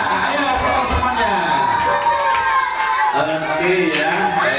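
Elementary school children at a Ramadan school event clapping and cheering together, a dense, continuous patter of hands and high voices filling the room for several seconds.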